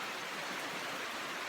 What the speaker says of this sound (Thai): ฝนตกฝนตกไอ้น้องเพิ่นก็บ่ได้ไปเวียก